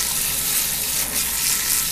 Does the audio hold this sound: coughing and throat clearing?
no